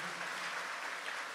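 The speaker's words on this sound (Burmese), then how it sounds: "လက်ခုပ်တီးလက်ထိုးယေရှုကိုဂုဏ်ပြုရ" A church congregation claps together in a short, faint burst of dense applause heard from a distance.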